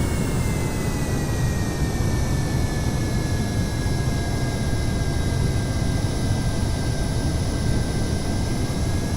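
A fast aircraft in Minecraft's Create Aeronautics roars at steady high speed, a loud unbroken engine drone with a faint whining tone running through it, no voices over it.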